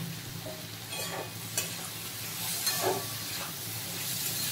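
Vegetables frying in a pan with salt and turmeric, a steady sizzle and hiss with occasional stirring scrapes, close and continuous.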